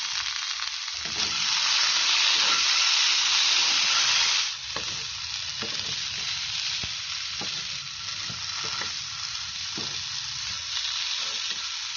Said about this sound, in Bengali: এটাকেও সমানে নেড়ে নেবো এরপর অল্প নুন দিয়ে দিলাম